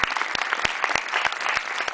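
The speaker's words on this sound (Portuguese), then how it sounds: "Palmas para ele." A concert audience at SESC Belenzinho in São Paulo applauds in a dense, continuous clatter of clapping hands, steady and fairly close.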